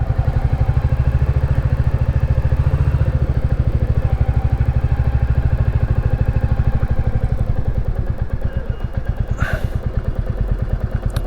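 A Royal Enfield Classic 350 single-cylinder motorcycle rides steadily, its engine thumping in a fast, even rhythm close by, with wind rush and a brief clatter near the end.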